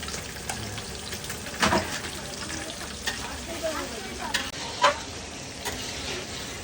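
Chicken and potato pieces fry in a pan for spicy chicken kasha, a steady moderate sizzle broken by occasional stirring scrapes and clacks, no voice over it.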